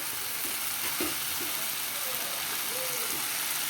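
Tomato thokku sautés in a pan with chilli, green chilli and tomato sauces, giving a loud, constant close sizzle broken by a few soft stirring scrapes, with no voices.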